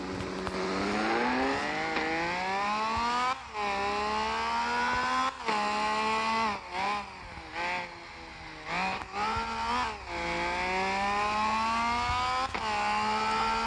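Racing car engines in the CarX Drift Racing 2 video game, loud and continuous, with revs climbing and dropping again and again as gears shift, interrupted by brief cuts. No one speaks.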